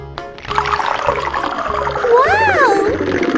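Cartoon water gushing from a water tank, heard as a loud continuous rush of water with bright, swooping tones and a rhythmic musical beat underneath.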